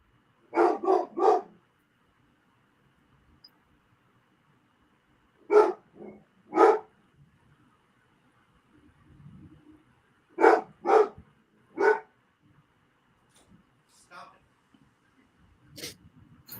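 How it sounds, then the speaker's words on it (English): A dog barks in short bursts of two or three sharp barks with pauses between them, fairly close and alone, with a faint low murmur in one gap. "What is Ranger barking at?"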